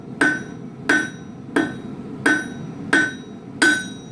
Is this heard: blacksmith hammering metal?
yes